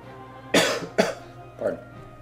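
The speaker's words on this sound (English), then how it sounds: "Hate coughing to the mic like that" Three sharp coughs land close into a microphone, two quick bursts followed by a softer third after a short pause, over a quiet background hum.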